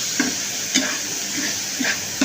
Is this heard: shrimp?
yes